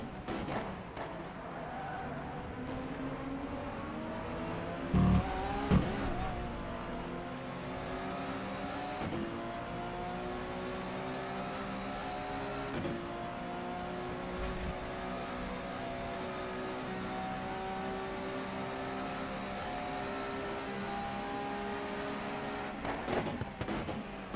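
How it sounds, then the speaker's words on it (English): A race car engine drones continuously from inside the car during an endurance race, pitch climbing and falling through gear changes, with occasional thumps and bumps, as a twin-turbo V8 Bentley's exhaust nears. "I'm starting to hear the big Bentley's exhaust. It's a twin turbo V8,"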